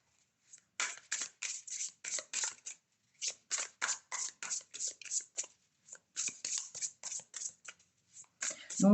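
Tarot cards are shuffled by hand in quick, crisp riffling bursts, about a dozen short flurries separated by brief pauses. The sound is close and fairly quiet, with a faint knock at the very end.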